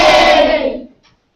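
Children cheer together in classrooms, a short loud burst of high voices shouting yay that quickly fades to silence.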